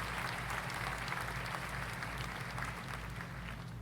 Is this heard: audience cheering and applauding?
yes